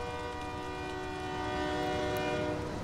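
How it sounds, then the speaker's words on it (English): A train passes in a driving video game with a Toyota Tacoma TRD drift build, its horn blaring as a steady, loud layered tone over rolling rail rumble, swelling slightly toward the end with no talk. "Here comes the train."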